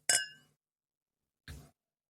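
Two clinks of whisky glasses in a toast with Sullivan's Cove whisky. A bright, ringing clink comes first, and a softer, duller tap follows about a second and a half later, close by in a quiet room.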